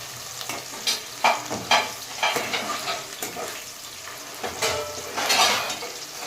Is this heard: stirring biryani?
yes